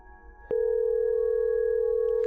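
In a point-and-click horror game, a phone call goes unanswered: a faint click, then a steady, loud electronic telephone tone that holds without a break through the rest of the moment.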